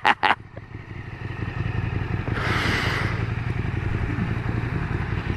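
A 2017 KTM Super Duke GT motorcycle engine runs steadily and loud up close, its rumble holding through the clip after two brief sharp bursts at the start, with a rising rev swell midway.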